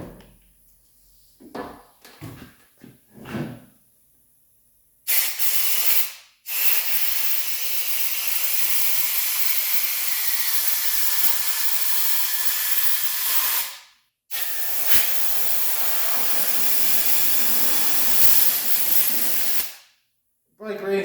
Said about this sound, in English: I squirted some brake clean in here, kind of let it simmer.